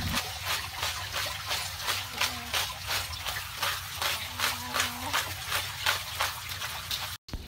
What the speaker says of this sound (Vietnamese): Sau đó các bạn rửa ở dưới vòi nước chảy như thế này